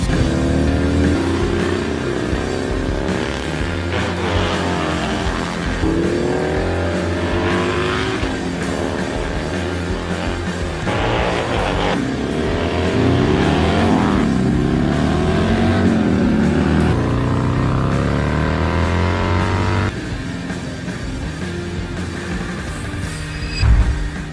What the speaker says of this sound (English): Look for the Flying Pig to run up front this year with pilot Ben Bosman